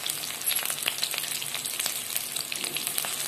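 Mustard seeds hit hot oil and fry with a close, continuous crackling sizzle, dotted with sharp little pops throughout.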